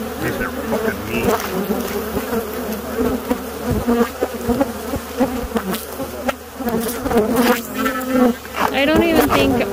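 An aggressive swarm of bees at an Arizona beekeeping site drones loud and close in a thick, steady buzzing, with individual insects zipping past and a faint voice briefly underneath.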